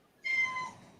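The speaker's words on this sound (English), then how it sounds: "I hear a cat." A house cat meows once, a single clear, fairly loud call close by that rises then trails off, set against a quiet room.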